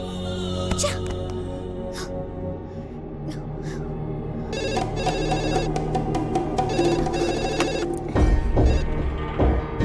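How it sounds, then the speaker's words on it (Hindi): A landline telephone rings in repeated electronic bursts during a dramatic film scene. The ringing is fairly loud and sits over a steady bed of background music and ambience. "तुमने मोबाइल काट दिया, इसीलिए लैंडलाइन पर फोन किया"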